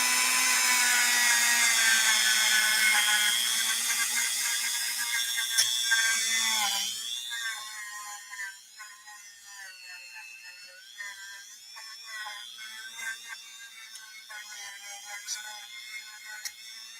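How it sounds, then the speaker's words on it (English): A Dremel-style rotary tool with a brush strips varnish from a Kenmore 1755 sewing machine, a close high-pitched whine with scratchy brushing that spins down partway and continues as lighter, uneven whirring. "it took us just a matter of seconds using this this Dremel style tool to get that varnishing off"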